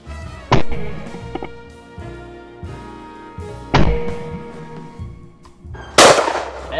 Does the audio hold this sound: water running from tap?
no